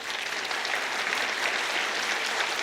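A church congregation applauds during a Sunday worship service, a steady, dense wash of many hands clapping together at an even level throughout.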